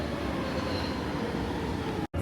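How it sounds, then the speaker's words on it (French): A metro train in motion gives a steady, loud rumble of wheels and carriage noise with faint squeal, continuous until a sudden brief cutout near the end. "on va se mettre en route et on va prendre le métro"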